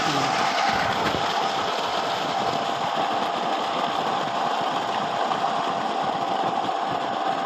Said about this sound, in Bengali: আগের থেকে মোটরের সাউন্ড একটু বেশি